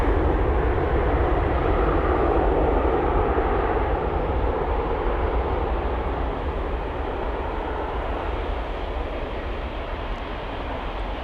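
A jet aircraft departing Amsterdam Schiphol Airport, a broad, steady engine roar held loud and continuous throughout, easing slightly toward the end, with no voices.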